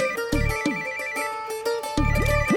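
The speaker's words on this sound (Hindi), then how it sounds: "पाजी गुड्डू दे फोन पे प्राइवेट नंबर" A mobile phone ringtone plays close by, a repeating electronic melody with bright tones and punchy low pulses, no talking.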